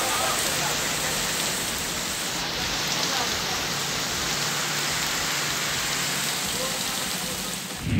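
Heavy rain pours down in a dense, steady hiss, loud and continuous with no pauses.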